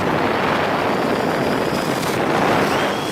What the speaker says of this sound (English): Now this blower blows way harder.